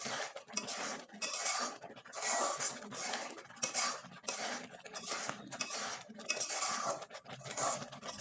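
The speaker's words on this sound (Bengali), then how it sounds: "এখন নেড়ে চেড়ে একবারে শুকনো করে তৈরি করে নেব" A spoon scrapes and clatters rhythmically against a pan while moong dal is stirred and dried out, repeated bursts of metallic scraping, close and fairly quiet, with no talking.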